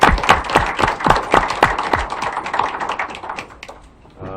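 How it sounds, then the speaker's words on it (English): Scattered hand claps from a small audience at a county board of commissioners general meeting, a few distinct claps thinning out toward the end. "Big applause, please."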